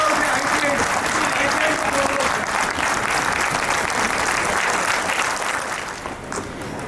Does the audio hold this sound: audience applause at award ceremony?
yes